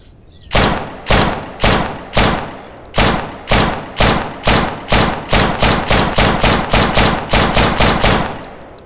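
A new pistol in the survival shooter Deadside fires about twenty loud, close shots, starting slowly spaced and quickening into a rapid even cadence, each crack ringing briefly before the next.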